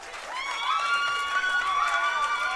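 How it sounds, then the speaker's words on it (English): A crowd at a Class B junior state baseball championship between Central City and ETC Mount Michael applauds and cheers for both teams, with steady clapping, shouts and whistles filling the stands. "let's give both teams a nice round of applause"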